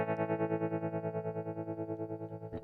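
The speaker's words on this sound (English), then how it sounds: "I fancy a bit of a tremolo sound on this." A clean electric guitar chord rings out through a tremolo effect in an iOS recording app, its volume pulsing in a fast, even throb, about ten beats per second, before a fresh strum near the end.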